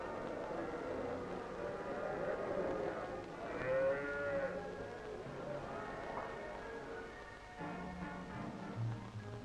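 Cattle at Dandenong's new cattle sale yard in Victoria, with several overlapping lows and bleating calls rising over a busy, steady yard din.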